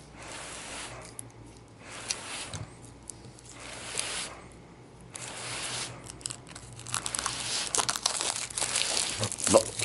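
Plastic wrapping on V-Commandos board game cards crinkles and tears in repeated bursts, close and fairly faint, growing busier toward the end.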